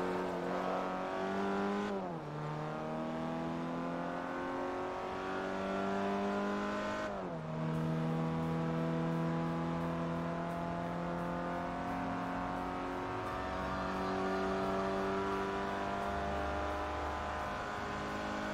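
A Peugeot race car in Forza Motorsport 3 accelerates hard, its engine rising in pitch through the gears with two clear upshifts, then holding a steady high-revving drone at speed, loud and continuous with no voices.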